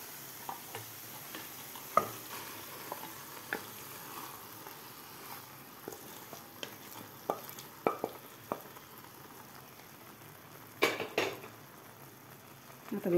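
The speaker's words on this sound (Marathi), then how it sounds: "आता व्यवस्थित आपल्याला खालच्या पालकमध्ये ही खिचडी मिक्स करून घ्यायची आहे" Cooked dal khichdi being stirred into spinach in a pot: soft, sticky mixing sounds broken by scattered light knocks and scrapes of a spoon against metal, faint and close.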